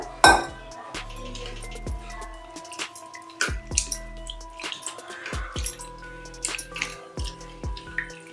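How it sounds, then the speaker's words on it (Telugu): Water splashing and dripping in a bowl as flattened rice (poha) is rinsed, with light clinks of a utensil against the dish at irregular intervals, close and fairly quiet. "వేసుకొని నీళ్ళు పోసి 2 సార్లు కడిగి పెట్టుకోవాలి శుభ్రంగా"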